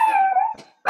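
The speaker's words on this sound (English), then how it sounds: "You get Chester barking?" A dog gives a single drawn-out, howling bark up close, followed by a brief pause and the start of another yelp.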